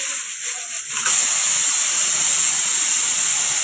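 A steady, loud hiss of escaping steam from a pressure cooker cooking dal with drumstick leaves begins about a second in and continues unbroken to the end, with no talking.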